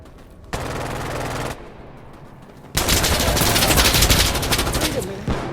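Sustained automatic gunfire in the video game Insurgency Sandstorm, one loud burst followed by a longer, denser fusillade of rapid shots with no talking.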